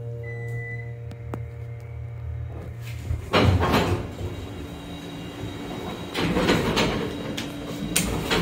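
An older Otis Series 1 hydraulic elevator door in the Grand Hotel, Cape May, New Jersey, slides shut with a close, sudden rumbling clatter after a steady machine hum, then settles into continued mechanical noise.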